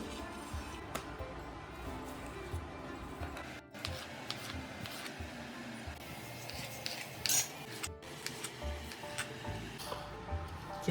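A knife cutting fruit into small pieces on a board: faint, irregular taps and clicks with light rustling in a quiet room, fairly close, with no speech.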